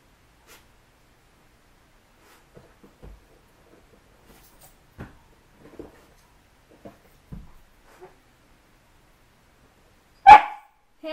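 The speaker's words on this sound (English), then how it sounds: "Please don't start barking." A dog, Stella, lets out a single sharp, loud bark near the end, close by, after a mostly quiet stretch with scattered small clicks and shuffles.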